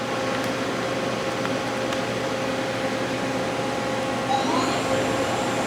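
Steady mechanical hum and whir of a lathe spindle with a 10-inch 3-jaw chuck running at speed, fairly quiet and even, with a rising whine near the end as it spins up.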